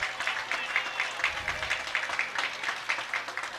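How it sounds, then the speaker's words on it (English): Michigan fans at a college baseball game against Minnesota cheer and clap in a steady rhythmic pattern, moderately distant, with no voices standing out. "Michigan fans cheering on Thomas."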